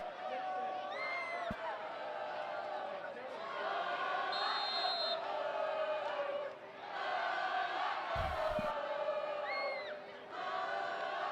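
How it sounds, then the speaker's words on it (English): A high school pep club student section at a Dexter football game against Caruthersville chants and yells as a crowd, a loud, sustained roar of many voices rising and falling in waves, with a brief thump near the end. "Dexter Pep Club student section trying to get the crowd fired up. Making a little noise, you bet."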